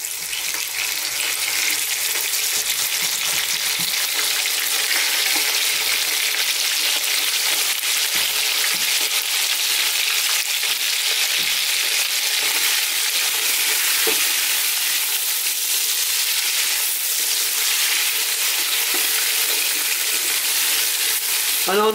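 Lamb or mutton pieces searing on high heat in a curry pan with potatoes, a loud continuous crackling sizzle with occasional stirring scrapes, no speech.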